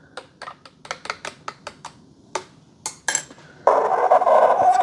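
A spoon stirs vanilla syrup into coffee in a cup, a rapid series of light, sharp clinks against the sides, followed by a louder sustained rush of liquid or machine noise at the end.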